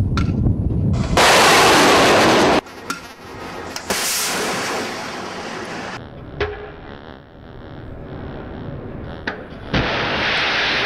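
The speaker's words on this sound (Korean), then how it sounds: "이 미사일 발사 영상을 보시면요" A missile launch from a naval air defense system fires a small, thin rocket with a loud roaring blast, followed by sustained rushing exhaust and several more sharp, booming launch bursts, close and powerful.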